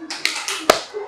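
Two sharp hand claps or slaps on the thighs, spaced about half a second apart, during a children's storytelling lesson, with a voice talking around them.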